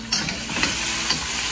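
Onion and garlic with pepper and salt sizzle steadily in a hot pan while a spoon stirs them, giving a loud, close frying hiss with a few scraping strokes.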